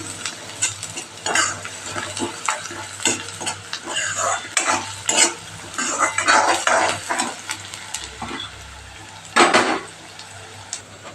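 Onions sautéing for a Kathiyawadi masala bhindi, sizzling in a pan as a spoon stirs and scrapes in bursts of clinks, close and fairly loud, with no talk.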